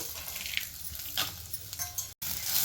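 Sliced onion and garlic frying in a pan for a traditional Mangalore-style fish curry, giving a steady close sizzle with light stirring scrapes throughout, with no talking.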